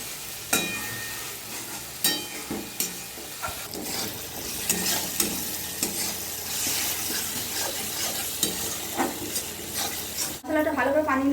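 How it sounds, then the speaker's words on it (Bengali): Spice paste for egg curry being stirred and fried in a pan, a steady sizzle with recurring scraping stirs, ending in a brief louder clatter near the close. "আমি 5 মিনিট ধরে মশলাটা কষিয়ে নেব ভালো করে।"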